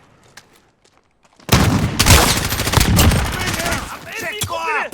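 Close, loud bursts of automatic gunfire and rapid shots from the Modern Warfare video game open after a quiet start, followed by a voice calling out over the shooting.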